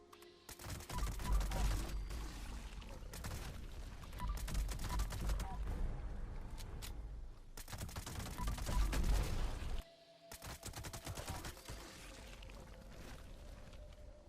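Fast legendary-weapon gunfire in Fallout 76, with the two-shot effect and a faster fire rate, comes in long rapid bursts broken by a sharp cut near the end before firing resumes, close and loud.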